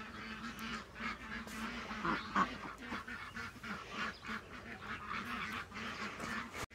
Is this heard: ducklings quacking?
yes